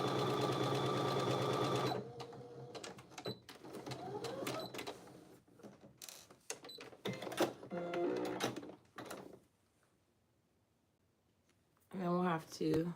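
Sewing machine stitching forward and then back stitching, a steady loud whir for two seconds followed by shorter bursts and clicks, with someone talking over parts and a final short run after a quiet pause.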